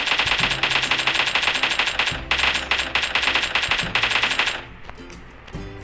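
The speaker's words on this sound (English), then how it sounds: "Yes, I'm going to fire the gun." Rapid automatic gunfire from a weapon in the PUBG Mobile game, sustained bursts of fast shots with brief pauses around two and four seconds, loud and close, ending in a fading tail.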